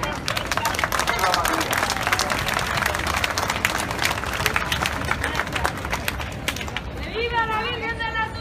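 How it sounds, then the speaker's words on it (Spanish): A crowd claps and applauds steadily for several seconds at a religious celebration of the Virgin of the Assumption in Brooklyn, with voices calling out and chatter rising as it fades. "Un aplauso grande, María Santísima."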